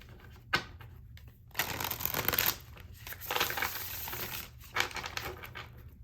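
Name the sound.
shuffling tarot cards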